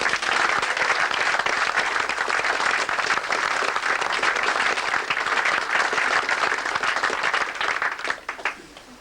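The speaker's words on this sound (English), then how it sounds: "I'd like you to put your hands together, please, and give them a round of applause." Audience applause at a motorcycle road safety event, a dense, loud sustained round of clapping from a sizeable crowd that carries on evenly before tapering off at the end.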